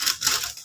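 Scissors cut through baking paper in two quick, crisp snips, close and clear, with no voices.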